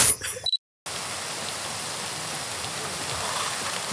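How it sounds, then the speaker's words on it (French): Steady rain falling in the Amazon jungle near a Yanomami village, an even, dense hiss that starts after a brief quiet gap, following a moment of faint background activity. "Il pleut."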